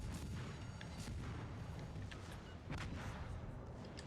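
Booming torpedo launches and naval gunfire from the World of Warships Legends video game, with a heavy, continuous low rumble broken by several sharp bursts, loud and close throughout.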